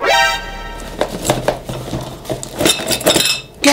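Ceramic dishes, bowls and cups from an unboxed package clink and clatter against each other in a string of sharp, close knocks and chinks of uneven rhythm, with a low tonal hum at the start.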